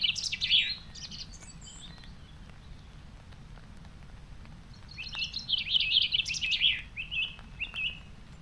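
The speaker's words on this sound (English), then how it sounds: "I love listening to the birds." Birds sing on Dartmoor in bright, twittering bursts, one phrase at the start and a longer busy chorus later, over a soft steady background patter.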